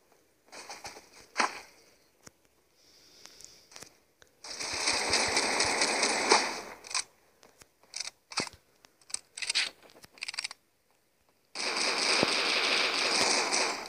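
Bursts of rapid gunfire in the game Critical Ops rattle in irregular clusters, with sharp isolated shots between longer sustained volleys, fairly close and loud.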